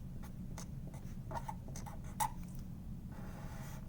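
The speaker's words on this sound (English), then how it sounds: "so I'm going to write down introduction" Pen or pencil writing a word on a paper graphic organizer, a soft scratchy patter of short strokes with small taps, close and quiet, no talking.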